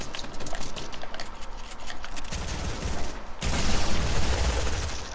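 Bursts of gunfire in a Fortnite Battle Royale match on PS4, dense and continuous across the clip, growing louder and heavier in the second half with no talk over it.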